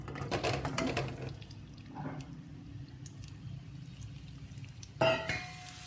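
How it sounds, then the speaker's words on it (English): Potatoes drop into a hot karahi over a high flame, with a burst of clatter and sizzling early on, a quieter stretch of frying, then another sharp splash of sizzle near the end. "everything will be done on a high flame, we add the potatoes"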